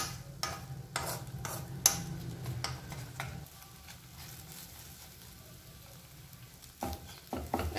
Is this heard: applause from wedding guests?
no